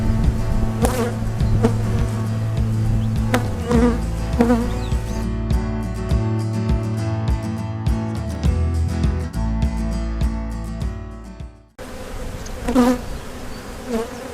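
Honeybees swarm around an open hive being split, a dense, continuous close buzzing with occasional knocks and clicks of hive equipment.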